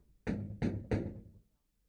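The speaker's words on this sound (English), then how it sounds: "Someone knocks at the door." Three firm knocks on a wooden door, evenly spaced and close, followed by silence in a quiet room.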